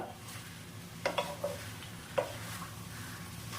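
A spatula stirs labra, a mixed-vegetable dish, in a pan: a soft, low sizzle runs throughout, broken by a few light clinks and scrapes against the metal around the middle.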